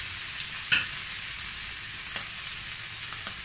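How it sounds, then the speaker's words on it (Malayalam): Mullet fish frying on a low flame in an iron pan: a soft, even sizzle throughout, broken by a few quiet clicks and taps from stirring. "ലോ ഫ്ലെയിമിൽ വറുത്തെടുക്കാം."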